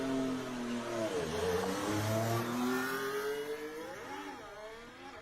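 A high-revving Formula 1 car engine screams past on track, pitch climbing through gears and then dropping as it fades into the distance.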